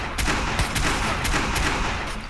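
Rapid gunfire in Watch Dogs, a dense burst of repeated close shots and crackling impacts that continues through the whole short stretch.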